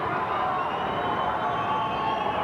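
A boxing crowd roars in a frenzy at a fight, a dense, steady wall of cheering and shouting heard from within the arena, continuous throughout.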